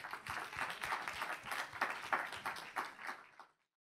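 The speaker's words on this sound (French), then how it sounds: "applaudir la présentation" An audience at an environmental conference on the Seine basin claps after a presentation, a moderate spread of handclaps that rises and fades before cutting to silence near the end.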